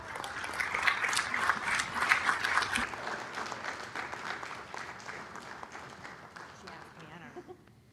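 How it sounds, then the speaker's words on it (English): An audience at a Norwalk city council meeting applauds with dense, continuous clapping that gradually thins and fades toward the end, with voices mixed in. "Let's give them a round of applause."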